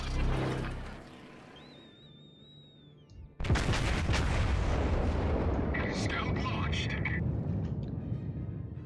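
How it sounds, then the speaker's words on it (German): Naval gunfire in the World of Warships video game, fought near the Japanese battleship Myogi: a sudden loud, heavy boom breaks in after a stretch of quieter sound and speech, then a dense roar rumbles on to the end. "Ich schieße hinter dem Miyogi."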